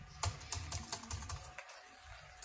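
Quick key presses on the internal keyboard of an Acer Nitro 5 laptop with faulty keys, a close run of sharp clicks that thins into sparse taps, no voices.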